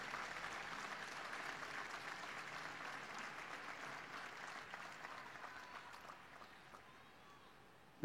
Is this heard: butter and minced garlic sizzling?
no